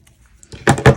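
Scissors snip through a series of yarn loops, cutting them in half while weaving on cardboard: two sharp, close snips in quick succession after a quiet start.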